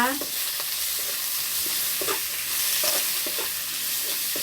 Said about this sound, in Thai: ใส่หมูลงไปผัดจ้า